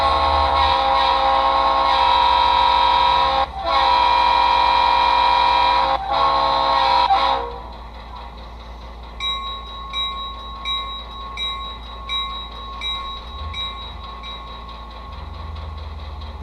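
An HO model locomotive sound decoder plays through a small 5C speaker: loud rail engine sound with brief dropouts, then a quieter idle after about seven seconds with a faint repeating pulsing pattern.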